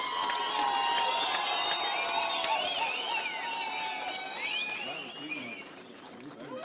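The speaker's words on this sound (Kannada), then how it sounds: "ಚಪ್ಪಾಳೆ ಕೊರಲಿ" A large crowd at a Kambala buffalo race roars with loud cheering, whistles and shouts that rise and fall, then thin out toward the end. Voices mix into the din.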